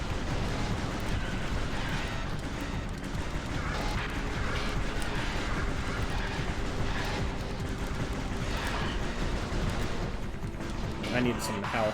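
Samus fires her arm cannon in Metroid Prime, a dense barrage of loud blasts and impacts that continues throughout, with voices talking over the game audio.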